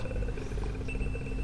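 A low, rumbling ghostly drone from The Grudge video game fills the background with a continuous, droning, growl-like tone and no speech.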